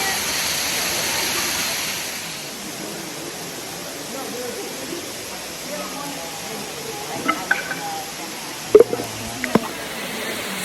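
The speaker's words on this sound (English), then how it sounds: "get you up close next to this incredible waterfall" The Lower Cascades waterfall at Hanging Rock State Park in North Carolina roars as a steady broad wash of rushing water, close and loud throughout, with a few faint knocks and clicks near the end.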